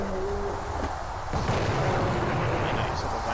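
Enemy gunfire in the retro shooter game Blood comes as booming, rumbling blasts and crackling bursts, loud and close, with a brief lull before the firing intensifies again.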